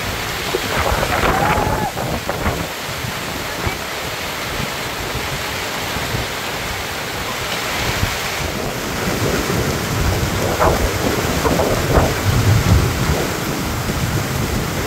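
A sudden squall sweeps a shoreline, with a steady roar of gusting wind and breaking waves that builds slightly toward the end, with occasional indistinct voices underneath.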